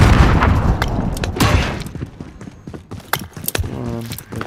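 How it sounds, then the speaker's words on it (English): In Call of Duty Warzone on Rebirth Island, a grenade bursts with a loud, close boom at the start, followed by scattered gunshots and mechanical clicks, with a brief voice near the end. "Throwing a grenade."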